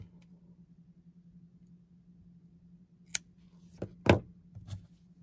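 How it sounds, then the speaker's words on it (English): Scissors snip through yarn in a quiet room, a few crisp close cuts spaced apart after a long stretch of near silence over a low steady hum. "And then I'm going to cut this yarn."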